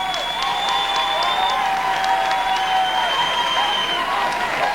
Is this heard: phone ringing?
no